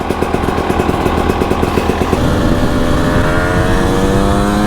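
A motorcycle engine pulses with rapid rhythmic firing at close range, then revs up as the bike rides off, its pitch climbing steadily and loudly.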